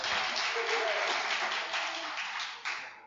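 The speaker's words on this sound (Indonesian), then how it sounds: "Tepuk tangan dulu untuk Bapak Iwan Dharma Putra." An audience at a business seminar breaks into steady applause, a dense wash of clapping that holds at moderate loudness before tapering near the end, with a faint voice underneath.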